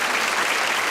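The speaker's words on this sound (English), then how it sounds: "I'm unable to lead the applause for these two stalwart gentlemen who assisted us." Studio audience applause on a television variety show, a short, even burst of many hands clapping at moderate volume.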